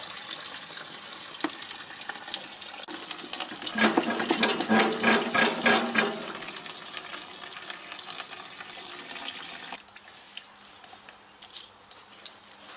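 Gasoline pours out of the tank of a Troy-Bilt Horse tiller in a steady trickling, splashing stream, swelling louder in the middle before easing back to a thinner flow, with no talking.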